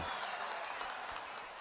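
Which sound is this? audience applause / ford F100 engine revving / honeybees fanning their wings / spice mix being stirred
audience applause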